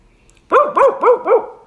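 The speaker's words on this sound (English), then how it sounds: "Let's see your dog" A dog gives four quick, loud barks in an even rhythm after a short quiet moment, close to the listener.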